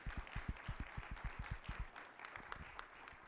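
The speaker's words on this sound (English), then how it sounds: "Let's go ahead and give Jeff a round of applause." An audience at a climate science workshop gives a presenter a round of applause, a dense, moderately faint clatter of many hands that carries on steadily for a few seconds and fades a little toward the end.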